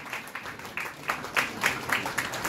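Audience applause at an annual youth convention in Rhenock, a steady crowd of clapping with rhythmic swells and accents, moderately loud and fairly close, no voices over it.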